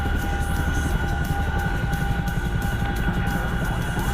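A Chinook helicopter in a flight game, heard as a steady, loud rotor and engine drone with a fast low throbbing pulse and a constant tonal whine, holding even for the whole stretch with no talk.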